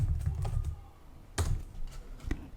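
Student numbers and names are typed on a computer keyboard in quick bursts of clicky keystrokes, fairly close and clear, with short pauses between groups of keys.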